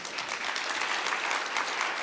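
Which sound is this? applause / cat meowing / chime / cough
applause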